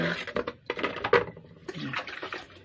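Cold water is poured over cooked, darkened tapioca pearls in a strainer, giving close, uneven splashing and trickling in short bursts.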